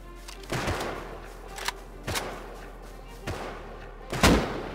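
Gunshots from the survival video game Rust, five separate reports spread over a few seconds, the last one loudest, with faint talk in the background.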